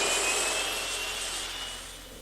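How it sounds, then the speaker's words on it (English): An aeroplane takes off with a loud, steady jet-engine roar and a high whine, gradually fading as it climbs away. "And when the aeroplane finally took off"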